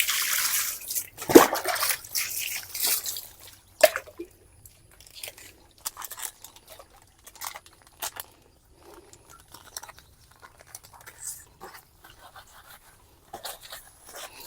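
Clothes being washed by hand in water: one loud splash near the start, then scattered small drips and wet handling sounds that are quiet and close, with no talking.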